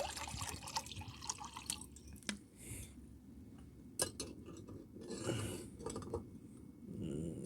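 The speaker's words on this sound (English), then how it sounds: "Pour in the water." Water being poured into a pot on an outdoor camping stove, heard as a soft continuous splashing and trickling with a few drips, fairly quiet against a light outdoor background.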